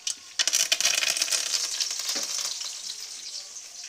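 Fennel seeds and curry leaves hit hot oil with a sudden loud crackling burst of rapid spattering pops, then settle into a steady sizzling hiss that slowly fades.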